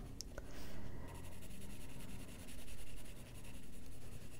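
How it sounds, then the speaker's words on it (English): Colored pencil lightly shading on the paper of an adult coloring book, a soft, close, continuous scratchy rubbing in repeated back-and-forth swells, faint and without talking. "So we're just going to do a light pencil coating here."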